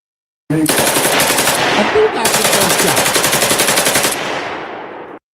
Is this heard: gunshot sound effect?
yes